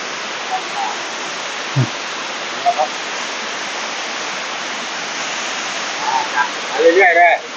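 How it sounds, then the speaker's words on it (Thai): The lower tier of Tad Yai waterfall in Nam Nao, Phetchabun, Thailand, roars as a steady, dense rush of falling water, with a few brief voices breaking in near the end. "น้ำตกตาดใหญ่ อำเภอ น้ำหนาว จังหวัดเพชรชบูรณ์นะครับ"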